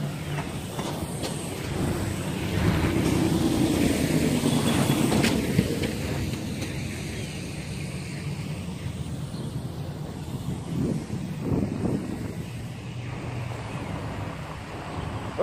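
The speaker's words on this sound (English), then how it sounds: "The wind trying to blow it into the tree." Gusty wind roars against the microphone outdoors while a Syma X13 quadcopter flies in wet, windy weather near a tree, a steady broadband rush lasting throughout with no voices.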